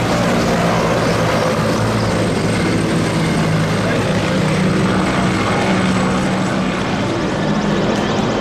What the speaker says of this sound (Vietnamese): Và đây là tốt trực thăng đi cuối cùng, bao gồm 4 chiếc.